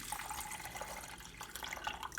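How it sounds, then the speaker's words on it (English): Canned juice pours from a can opened with a standard can opener into a rice cooker for roast pork butt, making a steady, close liquid splashing and trickling sound with no talking. "we open that up with our standard can opener and pour all that delicious juice"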